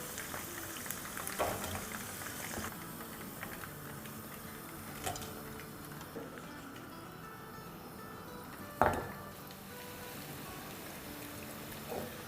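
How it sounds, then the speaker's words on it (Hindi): Chicken fries in hot oil for orange chicken, giving a steady low bubbling sizzle with a few sharp clicks and one louder clatter near the end. "चिकन फ्राई हो रही है"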